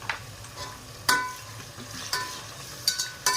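Onions sprinkled with salt cook in a pot for chicken biryani, with a faint low sizzle and a few sharp spoon knocks and scrapes at irregular intervals.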